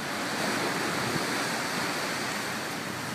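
Wind and breaking waves on an overcast, windy sea at Nice with whitecaps, a steady broadband wash with no talk.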